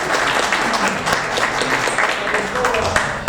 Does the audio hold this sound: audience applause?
yes